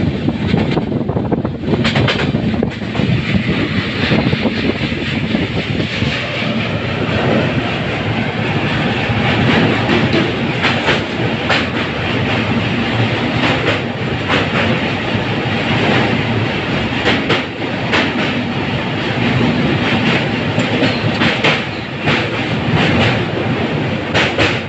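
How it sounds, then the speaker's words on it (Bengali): Tinsukia Express, the Tambaram–New Tinsukia train, pulling into Visakhapatnam Junction: a loud, steady rumble with a continuous clatter of wheels on track and carriage noise throughout, with no voices. "আমাদের ট্রেন এবার ঢুকছে অন্ধ্রপ্রদেশের রাজ্য বিশাখাপত্তনম জংশনে।"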